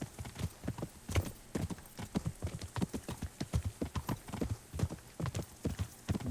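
Horse hooves clip-clop at a steady walking rhythm in Kingdom Come: Deliverance, a dense run of close, loud hoofbeats with no voices.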